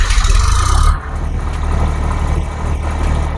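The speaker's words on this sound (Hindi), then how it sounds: "यहाँ पे देख सकते हैं ट्रैक्टर चालू हो गया है" A tractor engine runs steadily to power a diamond stone cutter flour mill, a loud, close, low rumbling drone that shifts slightly in tone after the first second and then holds an even idle.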